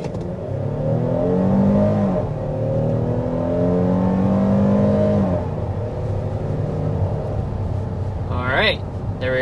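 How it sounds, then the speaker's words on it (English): A 2025 Kia Telluride SX Prestige with a 3.8-liter V6 accelerating hard to about 60 mph, its engine note climbing through shifts as a steady cabin drone, with a brief voice near the end. "we want to go ahead and start this test drive off by giving you a hard acceleration"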